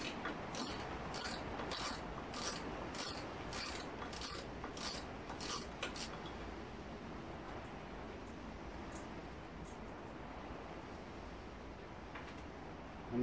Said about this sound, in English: I'm going to remove this nut off the end of the stud